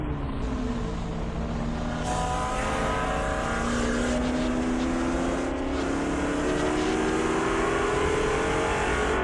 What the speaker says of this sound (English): Pushing these cars to their absolute limits.